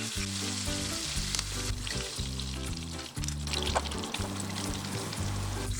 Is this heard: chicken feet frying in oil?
yes